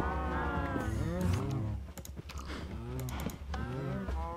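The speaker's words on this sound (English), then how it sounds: "those cows are loud" Cows in a video game farm moo loudly and repeatedly, several long drawn-out calls overlapping, with keyboard clicking faintly beneath.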